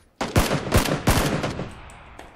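Gunfire from the battle royale game PUBG Battlegrounds: a short burst of several sharp rapid shots cracking close together with echoing decay, in an open field, heard alone without talk.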